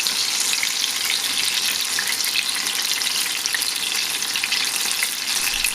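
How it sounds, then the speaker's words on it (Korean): Tomato and tofu batter deep-fries in hot oil for a second time, giving a dense, continuous crackling sizzle that stays loud and even throughout. "그래서 탕수육처럼 기름에 2번 튀겼어요"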